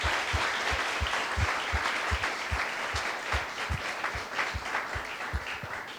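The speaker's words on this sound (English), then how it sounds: "So a round of applause for all the peons, security guards, the non-teaching staff." An audience applauds non-teaching staff such as peons and security guards at a PGDM batch inauguration event. The applause is dense, steady and sustained, a large crowd clapping together throughout without pause.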